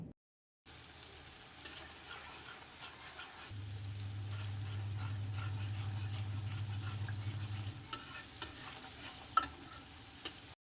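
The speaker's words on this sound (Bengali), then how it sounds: "তখন আমি এর মধ্যে হলুদ মরিচ লবণ ধনিয়ার গুঁড়ো জিরার গুঁড়ো সব কিছু দিয়ে দিলাম দিয়ে আবারও খুব ভালোভাবে আমি এই মশলাগুলোকে কষিয়ে নিলাম" Turmeric, chili, salt, ground coriander and cumin sautéing in a pan for a chicken curry, a faint steady sizzle with scattered light stirring taps, a low hum running through the middle, no talking.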